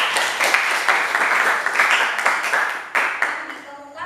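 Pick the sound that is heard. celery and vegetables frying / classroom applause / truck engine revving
classroom applause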